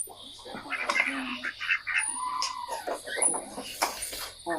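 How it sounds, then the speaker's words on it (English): A rooster crowing in a played video, heard among other farmyard bird calls, chirps and noises of moderate loudness, with people talking over it. "That's a rooster."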